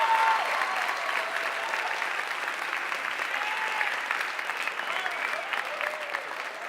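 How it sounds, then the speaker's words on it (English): Steady audience applause fills a comedy club for the full stretch, a dense, continuous wash of clapping at even volume with faint crowd murmur beneath and no speech. "Round of applause."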